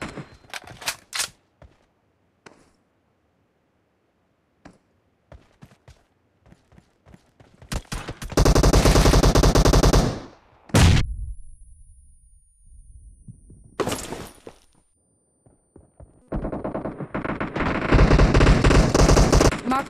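Rapid PP-19 Bizon submachine gun bursts in a video game, loud and dense sustained fire in two long stretches between scattered single shots and clicks, with a metallic ringing tone trailing after one burst.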